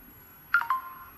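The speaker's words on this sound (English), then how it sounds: "Now if I click login, you will hear my phone." A phone sounds a short notification tone for a Facebook login alert: two quick bright chirps followed by a sustained ringing note, heard alone against a quiet background.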